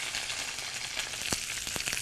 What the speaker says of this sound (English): You hear that? That sizzle? That's what you want. We are going to saute these green beans,